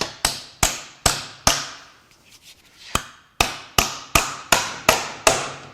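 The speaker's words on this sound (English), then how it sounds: "we're just going to give it some taps, because this thing is glued really well" Sharp hammer taps strike a glued drive motor unit from a 2023 Audi e-tron / Volkswagen ID.4 EV, about a dozen close, loud ringing blows in steady rhythm with a short pause midway.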